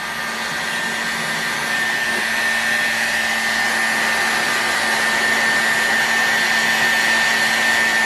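A heat gun warms the crankcase of an OS FS-120 model engine to free its bearings, blowing a loud, steady, close airy roar with a constant whine that holds throughout.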